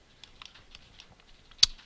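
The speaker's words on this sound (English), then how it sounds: "I'm just going to press Ctrl Z on my keyboard to go back." Keys pressed on a computer keyboard during 3D modelling work in Blender, a handful of light scattered clicks followed by one louder, sharper keystroke near the end, close and clear with no talking.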